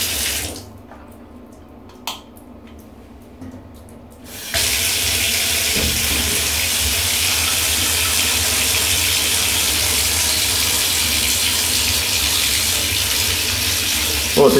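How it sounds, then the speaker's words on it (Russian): Water gushes from a GROHE Grohtherm 1000 thermostatic mixer tap after a few quiet seconds and a handle click, then runs in a steady loud hiss to the end. "Открываем холодную воду."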